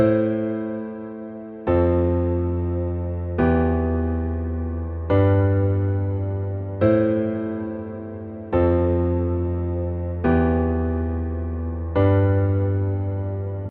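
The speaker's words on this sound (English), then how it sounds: "we now have a chord progression that sounds like this" Eight sustained synth chords change every couple of seconds in a steady progression, each swelling in and fading slightly, with no voices, played in FL Studio.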